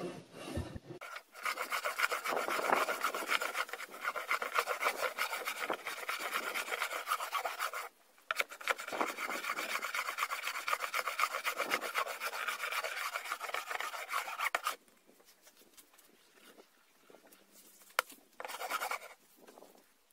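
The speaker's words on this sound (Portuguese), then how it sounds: "Na parte de lixamento da mesa, nós vamos usar uma lixa 80" A wooden workbench table built from scrap wood being sanded by hand with 80-grit sandpaper: steady, close rasping strokes in long runs, broken by brief pauses, with a quieter stretch of rubbing near the end.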